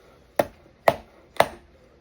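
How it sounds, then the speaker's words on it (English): Three evenly spaced sharp taps as a KWM bushing tool drives a bushing into the plate of a Seth Thomas Model 89 clock movement, each a crisp metallic knock with a short decay, close and alone. "so let's drive it just a little bit more"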